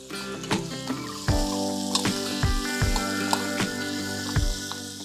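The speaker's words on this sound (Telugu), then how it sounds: "ఒక పెద్ద ఉల్లిపాయ ఇందులో వేసి వేయిస్తున్నాను" One large, thinly sliced onion frying in a pan, a close, steady sizzle broken by bursts of crackling, with a faint tonal hum in the background.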